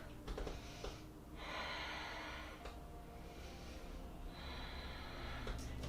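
Breathing during a yoga exercise: two long, hissing breaths, each lasting about a second or two, alternate with brief clicks and quieter stretches, close and soft throughout with no talking.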